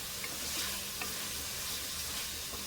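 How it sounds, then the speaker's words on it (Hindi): Pieces of chicken frying in a pan for chicken jalfrezi, giving a steady, close, dense sizzle with faint crackles throughout and no voices. "चिकन देखें फ्राई होना शुरू हो गया है"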